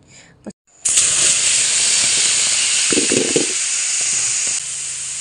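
Mandai hits a hot, dry wok with no oil and a loud, steady sizzle and hiss takes over, continuing strongly with a few faint clatters underneath.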